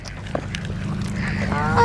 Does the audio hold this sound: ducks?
yes